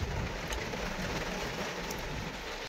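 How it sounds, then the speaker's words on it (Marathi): Heavy rain pours down in a dense, continuous hiss, loud and close, with faint patter on surfaces throughout. "पाऊस पण लय जोरात आला इकडे"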